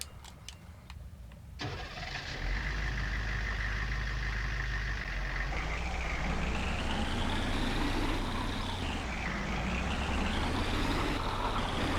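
A 2022 TLX 3500 truck's engine turns over and settles into a steady, loud idle and low rumble as the truck pulls into a shop, with a few clicks and knocks before it starts and no talking.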